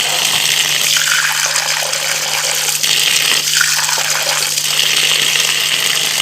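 Tap water gushes steadily and loudly into a pot while mustard greens (saag) are washed, with a continuous splashing rush throughout.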